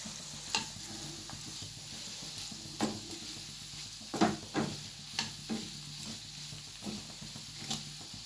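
Carrot pieces frying in oil in a pan, a soft continuous sizzle broken by regular stirring scrapes and knocks every second or so.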